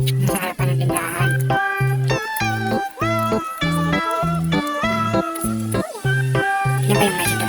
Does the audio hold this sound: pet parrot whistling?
no